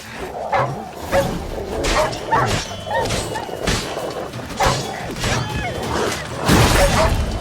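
Dogs barking in The Witcher 3, repeated sharp barks at an uneven pace mixed with thuds and crashes of combat, close and loud.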